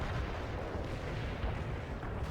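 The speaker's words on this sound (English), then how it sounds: "Commencing the barrage. Artillery strike." Artillery barrage pounding a battlefield in the World in Conflict: Soviet Assault strategy game, a dense, continuous rumble of overlapping low booms and blasts lasting throughout.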